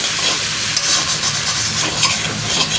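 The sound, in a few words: stirring and sautéing food in a pan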